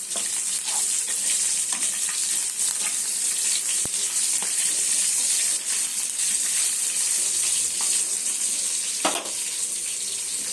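Green chillies frying in hot oil, a steady, loud, continuous sizzle and crackle close up, with occasional stirring scrapes and no talk.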